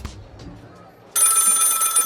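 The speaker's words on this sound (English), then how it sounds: "The phone is ringing." Telephone ringing in a video game, starting abruptly after some quiet background murmurs and then holding as a loud, continuous bright electronic bell ring.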